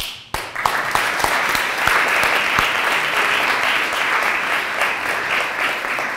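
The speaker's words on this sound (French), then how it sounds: "Donc on peut d'abord les applaudir." An audience applauds the two teams at the final of a regional debating cup, a sudden onset of dense, sustained clapping that stays loud and even throughout, filling the hall without any voices.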